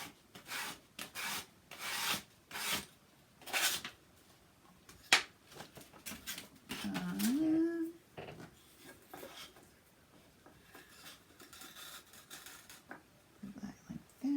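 Sandpaper rubbed by hand across a craft tray, giving bursts of dry scratchy rasping in short strokes, then quieter handling and rustling, fairly faint and close.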